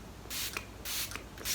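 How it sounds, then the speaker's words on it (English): Makeup setting spray mists from a bottle held at a distance from the face, three short hissing pumps in quick succession, close and soft. "So now I'm going to use the setting spray"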